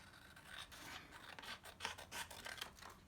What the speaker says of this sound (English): take my scissors, and I'm going to cut it out.